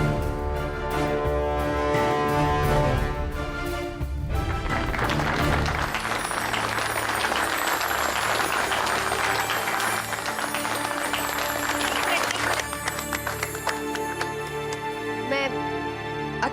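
Sustained audience applause rises over background music on a Hindi TV serial stage scene, steady and dense clapping filling the clip before the music swells.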